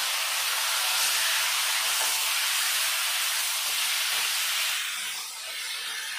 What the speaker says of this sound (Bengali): এখন দিয়ে দেবো সিদ্ধ করে রাখা কচু শাকগুলো।